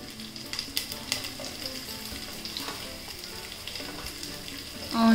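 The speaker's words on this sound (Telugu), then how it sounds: "కొంచెం కరివేపాకు, కొత్తిమీర వేసి వేయించుకోవాలి" Crushed garlic, carrot and green chilli fry in a pan for upma, giving a steady moderate sizzle with scattered crackles and stirring scrapes, ending in a louder burst of sizzling.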